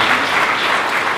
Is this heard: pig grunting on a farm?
no